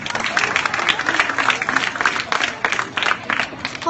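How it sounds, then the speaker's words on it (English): Audience applause for a guest speaker at a closing exercises ceremony, dense rhythmic clapping from a sizeable crowd, steady and fairly close throughout with faint crowd murmur. "Let us give him a round of applause"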